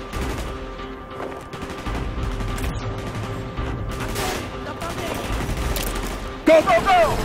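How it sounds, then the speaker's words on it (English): Gunfire in the video game Call of Duty: Black Ops, a steady rattle of automatic weapons and explosive bursts. A voice speaks over it, and it ends with a sharp, louder blast near the finish. "Gunfire's drawing attention"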